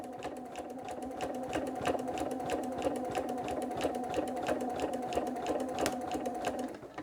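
Sewing machine running steadily through a quilted Santa cookie rug, a fast even stitching rhythm close up and continuous throughout, with no talking.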